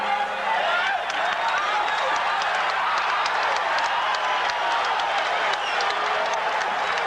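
A boxing arena crowd at Caesars Palace in Las Vegas applauds during a Muhammad Ali versus Larry Holmes fight, a loud dense wash of clapping and crowd noise sustained throughout.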